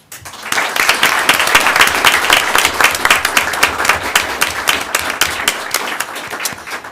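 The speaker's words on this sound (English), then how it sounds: "please again join me in one final round of applause" A school board meeting audience gives students a final round of applause, with steady, loud clapping from a crowd and individual hand claps standing out throughout.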